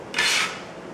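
A small bench scraper slides across a cutting board to gather coin-cut carrot pieces, making one brief, close scraping rasp.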